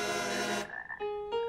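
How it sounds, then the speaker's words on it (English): Cartoon frogs croak in a buzzy, harmonic drone that breaks off, followed by two shorter higher croaks, loud and close with no talk. "You must get rid of these frogs."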